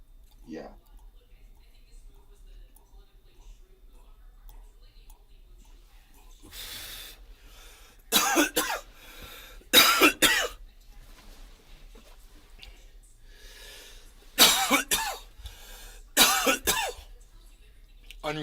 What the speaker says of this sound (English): Unrestrained coughs are the best ones.